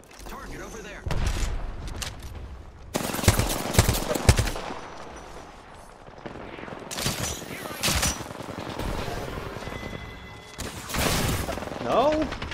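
Bursts of gunfire and explosive impacts from an Apex Legends team deathmatch, coming in scattered clusters over a noisy game mix, with voices talking over the action.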